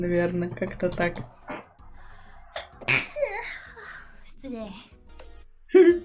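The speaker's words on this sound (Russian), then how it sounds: "Ну, это был чих с кашлем," A sneeze blended with a cough from an animated virtual streamer, a short sharp burst late in the clip, heard after a stretch of someone talking and reacting.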